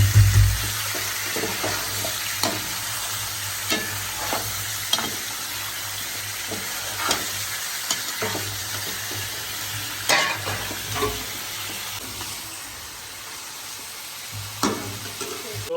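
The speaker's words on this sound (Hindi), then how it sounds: "तो तड़का जी भून चुका है, अभी चिकन डाल देते हैं जी" Steady sizzling of chicken frying in a pan with a fried spice tempering, with intermittent scraping of a spoon stirring through it, close up and continuous, no one talking.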